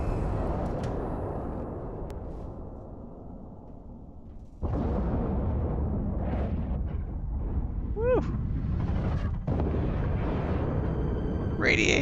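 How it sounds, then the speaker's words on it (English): Explosions from the video game Starfield on PS5 Pro boom through a steady dense roar, with a sharp burst near the middle and further blasts rumbling close and loud. "Explosions."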